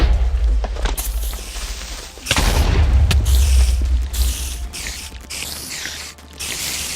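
Loud, booming bursts from a creeper explosion in the Minecraft TerraFirmaCraft mod, with several heavy blasts and rumbling in-game noise over about seven seconds and no talking.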